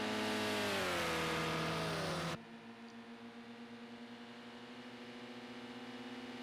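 Race car in the Project Cars 2 video game, its engine note loud and climbing as it accelerates, then a sudden drop to a quieter, steady engine hum with a faint pulsing for the rest.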